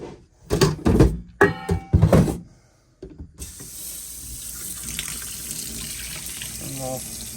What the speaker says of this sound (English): let's bleed that water heater.